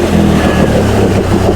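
Engine of a 2020 Can-Am Outlander XMR ATV swapped with an 850 engine, a steady loud roar with a low rumble, held close by with slight rises in revs over a short stretch.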